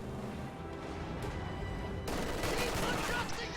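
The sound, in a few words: LMG grenadiers firing at riflemen in a strategy video game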